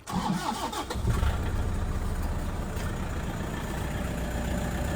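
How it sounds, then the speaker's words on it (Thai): A 2006 Toyota Vigo 2.5 G pickup truck engine cranks briefly, catches, then settles into a steady low idle close by. "นี่นะครับเสียงเครื่องยนต์เดี๋ยวให้สตาร์ทให้ฟังนะครับ"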